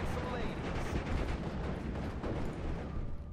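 Dense, continuous rumbling booms of artillery and gunfire from a Steel Division Normandy 44 battle fill the scene loudly, with overlapping blasts and a steady low roar throughout.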